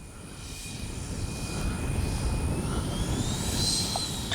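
Freewing 90mm T-45 Goshawk RC jet flying in strong wind, its steady turbine whine rising in pitch toward the end over constant wind rumble, fairly distant and continuous.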